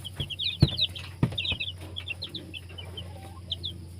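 Fighting cocks cluck in short, chattering bursts nearby. A few sharp thumps sound through the clucking, and a steady low hum runs underneath.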